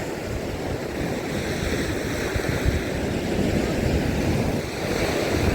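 Black Sea waves roll and wash against the shore at Odesa in a constant roar, with wind buffeting the microphone throughout.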